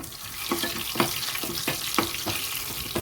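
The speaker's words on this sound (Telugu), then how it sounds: "1 స్పూన్ ఆయిల్ వేసాను. వెల్లుల్లి వేసేస్తున్నాను. కొంచెం ఆవాలు, కొంచెం జీలకర్ర ఫ్రై అయ్యాక ఎండుమిర్చి వేస్తాను." Garlic with mustard and cumin seeds fries in a spoonful of oil, giving a steady soft sizzle broken by regular crackling pops about every half second.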